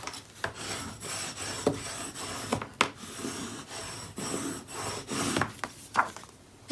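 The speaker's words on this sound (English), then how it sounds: "I'm going to burnish that into place" Paper on a mini album being burnished down by hand, a dry scraping rasp in repeated strokes with sharp clicks between them, close and fairly loud, no voices.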